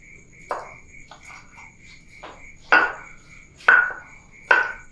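Stone mortar and pestle (ulekan) pounding and grinding cooking ingredients, giving four sharp, fairly close thuds spaced irregularly over a soft background hum.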